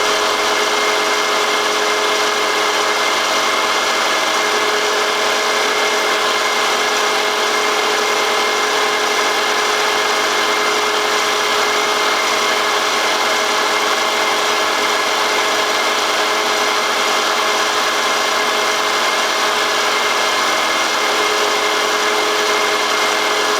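A 3/16 end mill machining a rusty iron part of an antique book press, giving a constant high, dense whine and grinding hiss that runs unbroken and loud throughout, with no talk.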